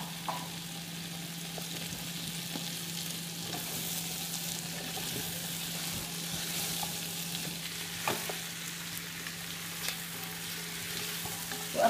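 Potato pieces cut lengthwise into quarters fry in oil in a pan for yellow chicken tashreeb, a steady, continuous sizzle with small crackles and pops, close and even, with no talking.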